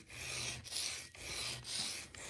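A kitchen knife drawn along a coarse-grit diamond sharpening stone, giving repeated gritty rasping strokes, about four in a steady back-and-forth rhythm, close and fairly quiet with brief gaps between passes.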